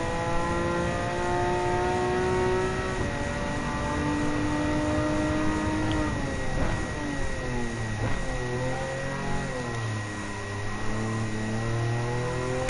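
A Porsche race car engine from Gran Turismo 7 drones steadily during a time attack, its whining tone rising and falling with shifts and revs, loud and continuous with no talk.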